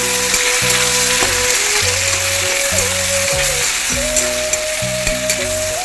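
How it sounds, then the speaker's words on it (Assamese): Marinated broiler chicken hits a hot pan and fries with a steady, loud sizzle, broken by a regular stirring or clanking rhythm throughout. "বাকী মেৰিনেট কৰা মাংসটো ঢালি দিয়া হৈছে এতিয়া।"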